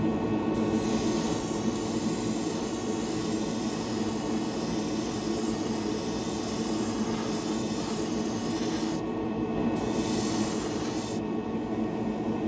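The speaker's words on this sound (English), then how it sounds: "Turn on my booth. And we'll get spraying here." Continuous loud hiss of spray painting with Kaleido Colorworks paint in a spray booth under the steady roar of its ventilation fan, unbroken throughout.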